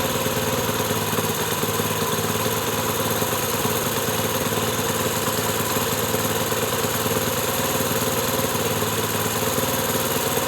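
A Honda CD 70 motorcycle engine idling steadily close by, a constant buzzing thrum with dense ticking, loud and alone.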